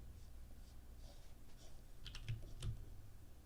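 Soft typing on a computer keyboard during a drawing session, a quiet patter of key clicks with a couple of slightly sharper taps near the end, heard faintly against a low background hum.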